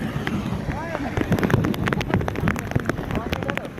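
At Keenjhar Lake, heavy rain keeps up a thick, steady patter and rush close by, with gusty wind buffeting the microphone.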